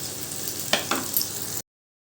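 Onion and tomato fry in oil with a steady close sizzle and a couple of brief stirring scrapes, ending abruptly.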